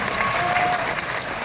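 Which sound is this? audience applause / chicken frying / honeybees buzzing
audience applause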